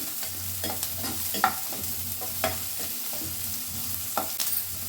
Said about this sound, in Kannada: ಈರುಳ್ಳಿ ಎಲ್ಲ ಸ್ವಲ್ಪ ಹಸಿ ವಾಸನೆ ಹೋಗೋವರೆಗೂ ಹುರ್ಕೊತಾ ಇದ್ದೀನಿ